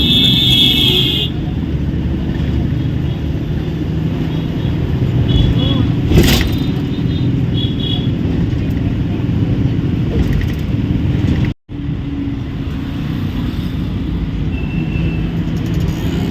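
Steady road rumble of a Maharashtra state transport bus in motion heading toward a highway, engine and traffic noise continuous throughout, with people talking faintly inside.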